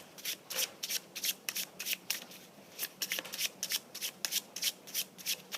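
Tarot cards are shuffled repeatedly in quick riffling bursts, close and crisp, with a steady rhythm and no talking.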